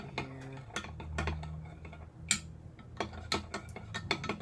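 Homemade buttermilk mixture stirred in a kitchen, a run of close clicking, scraping and knocking strokes in an uneven rhythm, without talk.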